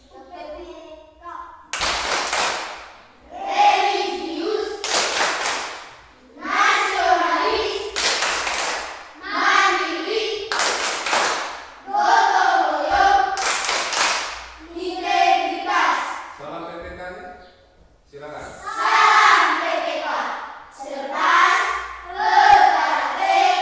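Tepuk PPK clapping routine in a classroom: a group claps in short rhythmic bursts with sharp broadband strokes, interleaved with children chanting in unison, loud and close throughout.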